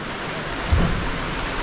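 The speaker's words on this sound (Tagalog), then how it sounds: "Ang ulan kasi may halong fertilizer yan." Steady rain pours onto a newly planted field of corn and peanuts, a dense even hiss of drops with a brief low thump near the middle, no voices.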